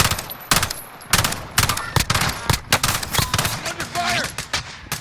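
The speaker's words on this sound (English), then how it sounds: "Under fire." Rapid bursts of gunfire in a first-person shooter video game, sharp cracks and automatic volleys coming in irregular clusters, loud and close, with a voice briefly heard among the shots.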